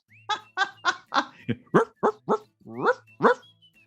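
A dog barks about ten times in quick, sharp succession, close and clear, each bark short and bright with brief gaps between.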